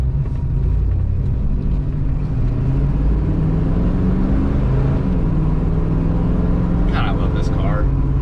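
A car engine rumbles steadily at close range with low, rough throbbing and a few rising revs, running continuously throughout while a voice talks over it.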